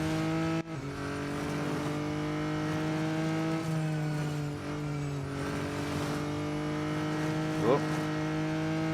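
Engine of a GT4-class race car in the mobile game Real Racing 3, a steady sustained drone with rising and falling pitch shifts throughout, loud and continuous, with a brief gearshift-like dip near the start.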